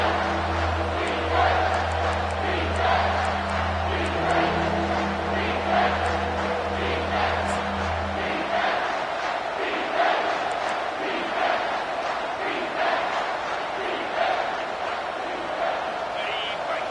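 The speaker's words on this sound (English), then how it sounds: "Decibels rising as the crowd gets behind this defense on 3rd down." A football stadium crowd roars steadily on a third-down play as fans rally behind the defense. The dense, sustained noise is heard under a commentator's voice, with a low droning tone fading midway.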